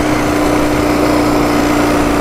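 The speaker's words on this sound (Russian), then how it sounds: "Утухает, утухает мотор." A faulty motorcycle engine that won't pull runs loud and close, a steady droning buzz with no pauses.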